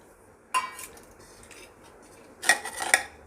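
A spoon stirs and scrapes soaked sabudana with potato and peanut powder in a bowl, giving two bursts of clinking and scraping separated by a quiet pause, close and moderately loud with no talk.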